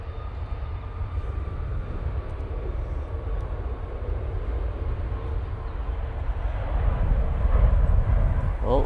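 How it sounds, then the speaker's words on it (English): A Ryanair Boeing 737 MAX 8 jet rolls down the runway at Manchester Airport for takeoff, a distant, steady engine rumble that builds slightly louder near the end, with wind noise around it. "Ryanair now on the roll."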